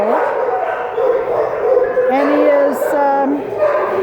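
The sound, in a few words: puppy barking and whimpering at an animal shelter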